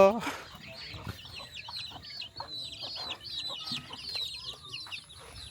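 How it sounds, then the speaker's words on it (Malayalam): Hens cluck and chatter repeatedly in a lively cluster nearby, with a brief higher squawk at the start and faint background noise. "അവിടെ കോഴികളുണ്ട് ഗൈസ് കോഴികൾ"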